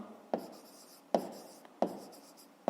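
Pen writing on paper during a maths exercise, three or four distinct scratchy strokes in an uneven rhythm, close and quiet, with no talking.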